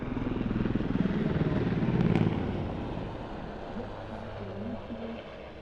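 A Swiss Air Force Super Puma helicopter flying at an airshow, a steady distant engine and rotor drone that swells slightly and then fades, with a speaker's voice faintly over it.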